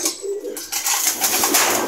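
A pigeon coos softly nearby against a bright, hissing background, a low rounded call repeated once or twice.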